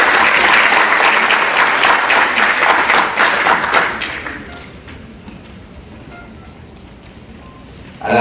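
Applause from an audience at an academic event, loud and dense clapping for about four seconds before fading to a quiet room murmur.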